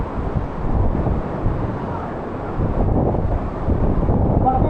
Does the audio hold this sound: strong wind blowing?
yes